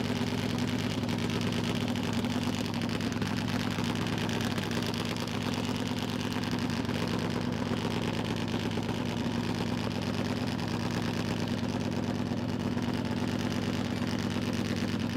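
A V-twin Harley drag racing motorcycle idles at the Willowbank Raceway drag strip in Australia, moving into pre-stage. The engine gives a loud, steady, unbroken drone throughout.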